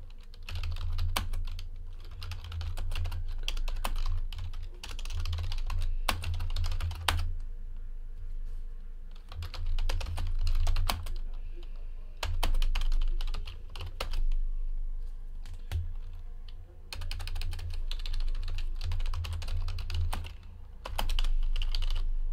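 Computer keyboard typing runs steadily throughout in quick irregular bursts of close key clicks, pausing briefly now and then, with a low hum underneath and no talk.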